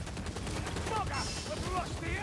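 Rapid automatic gunfire from a ratling gunner in Warhammer Vermintide, a sustained rattling burst running under the game's clamor and scattered voices throughout.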